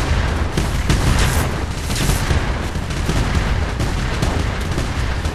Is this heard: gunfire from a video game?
yes